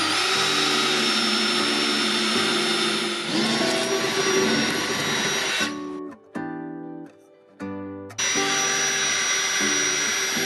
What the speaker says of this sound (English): we just have some holes to drill now.